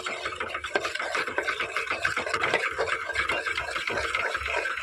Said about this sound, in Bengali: এই দুধের মধ্যে আমি অল্প অল্প বিস্কুট দেব আর এই রকম মিশিয়ে নেব